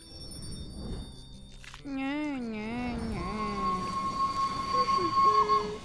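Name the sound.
train rolling with squealing wheels, from a video game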